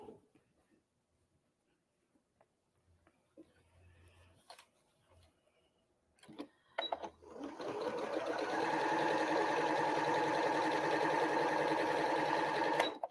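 A sewing machine stitches a quilt seam, starting with a few isolated clicks and handling noises, then running in a steady, loud, continuous whir for several seconds close by.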